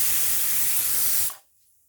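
A pressure cooker making chicken biryani lets out a strong, steady hiss of escaping steam that cuts off abruptly after about a second and a half, with no voices.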